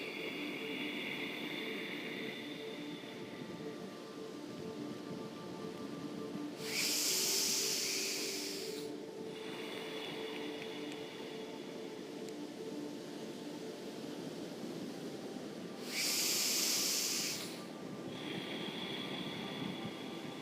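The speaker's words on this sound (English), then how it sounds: "Do 3 breaths with the Ujjayi and then just breathe normal" Ujjayi yoga breathing heard close and quiet as steady, soft throat-hissed breaths, with two longer, louder rushing exhalations spaced about ten seconds apart standing out above the calm background.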